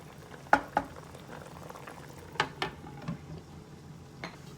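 Adobo simmers in a Power XL cooker, quiet bubbling broken by a few sharp pops and bursts at irregular intervals, close by, with no talking.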